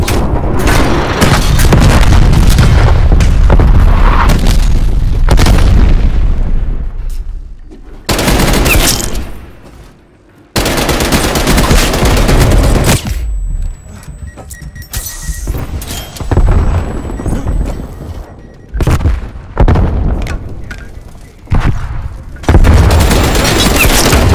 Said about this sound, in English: artillery targeting active. Air patrol standing by. Artillery inbound.